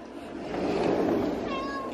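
A single cat meow rises and fades in the middle of the clip, close by, over light background noise.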